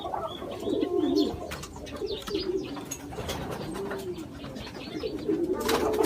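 A pigeon coos at close range in a rural setting, repeated low rolling coos with a few faint chirps behind, steady and clear with no talk.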